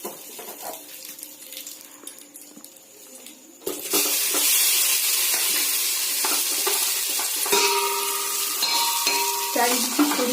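Green jackfruit pieces dropped into a hot frying pan for a vegetarian biryani, a quiet start giving way abruptly to a loud, sustained sizzle that continues to the end.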